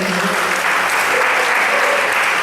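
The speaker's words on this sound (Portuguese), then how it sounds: "Aplauda o Senhor nessa noite." Congregation applauding during a church service, dense sustained clapping filling the space evenly and loudly throughout, with no break.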